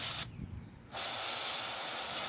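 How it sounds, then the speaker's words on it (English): Cleaner sprayed onto a Ford Mustang throttle body in two close, loud hissing aerosol bursts, the second one long and continuous. "Go ahead and spray these off too"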